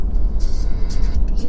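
A Ford car with a jerky shifting fault cruises down the road, its steady low engine and road rumble close and loud, with brief airy hiss swells over it.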